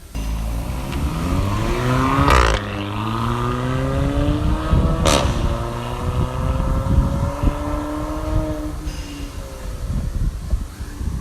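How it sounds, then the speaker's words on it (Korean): A Kia K3 GT with a tuned exhaust accelerates hard, its tone climbing through the gears, with sharp exhaust pops at each shift. "배기 소리 한번 들어보겠습니다"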